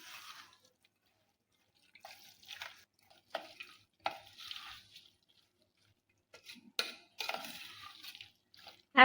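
Raw mango pickle being mixed by hand with pickle masala and oil: intermittent wet, squelchy stirring sounds in short bursts separated by quiet gaps, close and fairly soft, with no talking.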